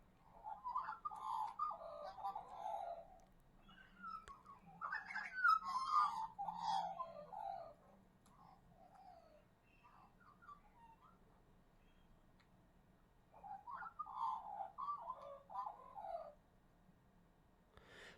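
Soft cooing and warbling of pigeons or doves outdoors in Australia, several bursts of calls coming and going with quiet gaps between, fairly faint over a low background hum.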